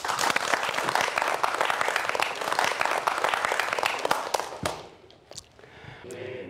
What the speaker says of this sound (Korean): 여러분 박수로 청해보도록 하겠습니다.